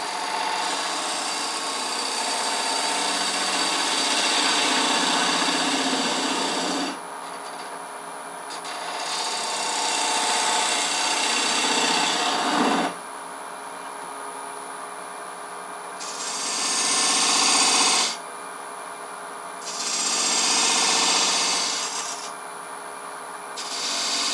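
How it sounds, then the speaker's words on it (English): Wood lathe spinning a hollow form while a 3/8-inch spindle detail gouge cuts, producing loud scraping, rasping passes in several bursts over a constant motor whine, with quieter gaps between cuts. "I'll switch to a spindle detail gouge, which is a little easier to get in there. 3/8 inch, a little bit smaller. I'm going to pick up the cut here"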